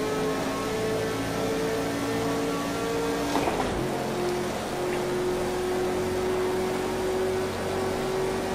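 A GT sports car engine in a racing video game, revving and accelerating with a steady, continuous drone that shifts pitch partway through as the gears change.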